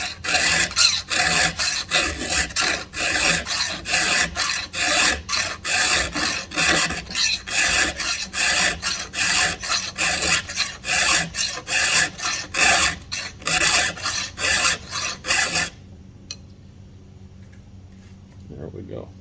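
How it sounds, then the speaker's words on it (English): Rapid, steady rasping of a file across chainsaw chain teeth, close and loud, a regular stroke rhythm for about fifteen seconds before stopping, followed by near silence. "So we are going to file that."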